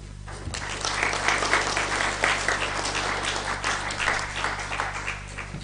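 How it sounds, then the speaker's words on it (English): Attendees at the opening of the East African Internet Governance Forum applaud in a lively, continuous round of many hands clapping, over a steady low electrical hum in the hall. "I think the panel deserves a better round of applause"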